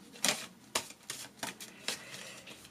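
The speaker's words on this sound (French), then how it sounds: "S'il vous plaît, Béline, une carte sur le verdict." Tarot cards are shuffled and drawn in several quick papery riffling bursts, close and fairly soft, coming at an uneven rhythm with no talking.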